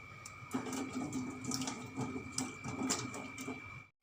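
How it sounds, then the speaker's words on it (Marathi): Fresh ginger with soil on it is rinsed in clean water before peeling, giving a steady, close wash of splashing and trickling water with small clatters throughout until it stops abruptly. "आल्याचे साल काढणे अगोदर हे स्वच्छ पाण्याने धुवून घेते मी"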